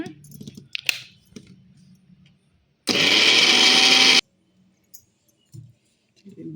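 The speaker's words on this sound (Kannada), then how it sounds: "ಸ್ವಲ್ಪ ನೀರು ಹಾಕ್ಬಿಟ್ಟು ತರಿಯಾಗಿ ರುಬ್ಕೊತಾ ಇದ್ದಾರೆ" A kitchen mixer grinder runs in one loud burst of about a second and a half, grinding fresh coconut, garlic and curry leaves with a little water, with quieter handling noises before and after.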